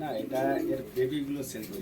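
Imported and local Bangladeshi pigeons, among them racer, beauty and lakka breeds, coo in low, throaty phrases close by, mixed in with a person talking throughout.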